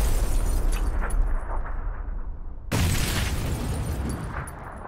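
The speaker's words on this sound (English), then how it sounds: "Oh, it's like the worst grenade." A grenade detonates in the battle royale game PUBG, producing a loud, deep, rumbling roar that breaks off briefly, then surges back and rolls on at full strength.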